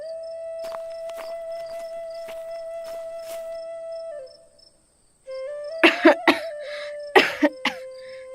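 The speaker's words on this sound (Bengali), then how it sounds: "আমার খুব কাশি হচ্ছে" A cartoon girl coughs in a few sharp, harsh bursts near the end, over a sustained tonal music line with soft tapping earlier and a brief silent gap before the coughs.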